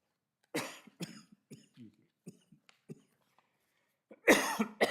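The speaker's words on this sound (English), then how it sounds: "Sometimes it makes me cough even more." A run of short, sharp coughs from one person close by, spaced irregularly, ending in a louder, harsher burst.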